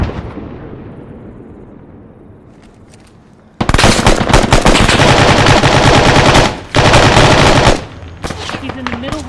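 Rapid sustained machine-gun fire in a video game, aimed at a BMP, comes in two loud, long automatic bursts split by a short gap, following a quieter stretch of game sound.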